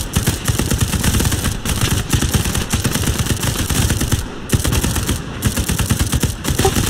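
Machine gun fire in the World War II shooter Hell Let Loose, during a Sherman tank assault on Omaha beach: loud rapid bursts of automatic shots with brief pauses between them, close and dominant.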